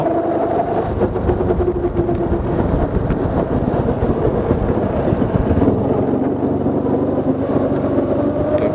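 A go-kart engine drives flat out down a long straight on a karting track, with a loud, continuous rough drone and rattle that holds steady throughout.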